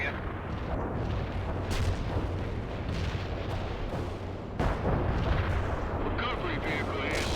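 A mortar artillery strike in the real-time strategy game World in Conflict makes dense, rumbling booms and blasts that fill the whole stretch, with radio-style unit voices talking over the barrage.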